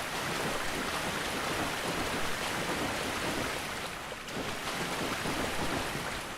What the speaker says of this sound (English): This is the noisiest water I've ever had to water.